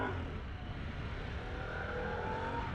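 Engine of a Harley-Davidson Pan America 1250 Special motorcycle, a steady, even rumble held close and continuous throughout with no voices.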